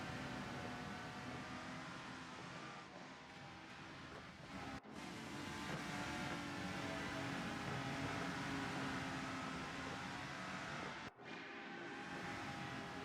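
Race cars circle the Spa-Francorchamps track in the Rennsport racing game, a faint, steady engine drone with a slight rise and fall and no voices over it.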